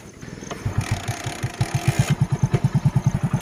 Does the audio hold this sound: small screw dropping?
no